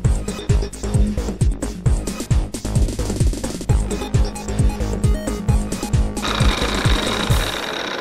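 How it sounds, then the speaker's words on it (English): Angle grinder grinding down the face of an old anvil during refurbishing, a loud close metallic grinding that pulses in rapid regular bursts, then steadies into a continuous harsh hiss. "It was just too much for that cup grinder, so I'm using the angle grinder a little bit"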